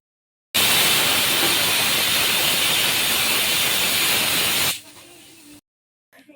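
A pressure cooker on a stove, cooking mutton soup, lets off a loud, steady hiss of escaping steam for about four seconds before it cuts off abruptly, leaving faint background noise.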